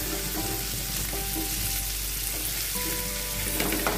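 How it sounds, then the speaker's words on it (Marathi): Eggs coated in chili powder masala frying at medium heat, a dense, even sizzle that holds loud and constant throughout, with no voices. "आता ही अंडी मी अशी फ्राय करत ठेवली आहे"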